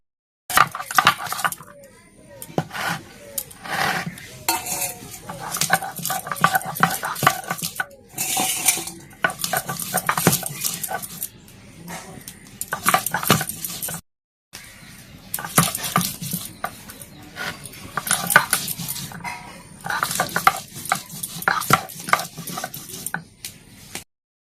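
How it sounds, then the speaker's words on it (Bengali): Green chilies and garlic ground by hand for taro leaf vorta, repeated clacking and scraping of stone on stone in irregular bursts with brief pauses, close and fairly loud, with occasional speech. "মরিচটা আর রসুনটা বাইটা নিব।"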